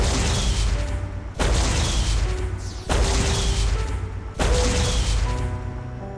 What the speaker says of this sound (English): A lightweight energy cannon that blasts an intense electrical beam that explodes